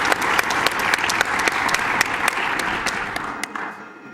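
Enthusiastic applause from a crowd at a speedrunning marathon event, dense clapping that holds steady for several seconds, then tapers off toward the end.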